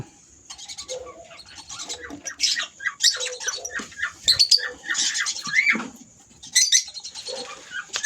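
Lutino Opaline breeder birds in an aviary, a close flurry of squawks and chatter in irregular bursts, with quiet gaps between calls.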